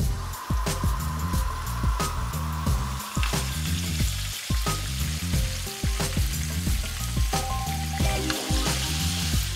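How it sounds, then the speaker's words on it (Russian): Food frying in a pan of hot oil gives a dense, continuous sizzle, broken by repeated sharp clacks and scrapes of a utensil turning the pieces, loud and close with no talking. "Выкладываем все это на сковородку."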